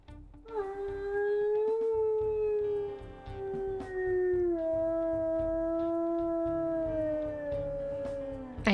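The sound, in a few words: wolf howl in the video game WolfQuest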